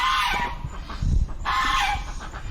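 Rooster on a property with chickens, ducks and a goose, giving two loud, close crows with a brief gap between them, no talk.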